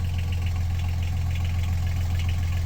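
Boat engine running at a steady idle, a continuous low rumble filling the whole stretch at close range with no talk over it.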